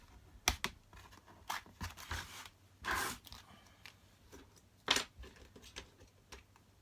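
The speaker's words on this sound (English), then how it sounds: "I'm just going to cut that out now nice and neat." A blade cuts out a part for a Skywalker X6 FPV aircraft build in short, sharp, scratchy bursts separated by quiet gaps, close by and fairly faint, with no talking.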